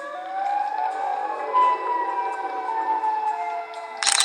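Siren Head, a fictional horror creature, lets out a loud, sustained wailing siren tone with steady harmonic pitches, swelling slightly midway and ending with a burst of noise.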